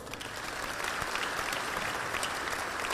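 An audience at a legislative delegation update in the Monroe Civic Center applauds the event sponsors, with dense, steady clapping that holds for the full three seconds and no voices over it.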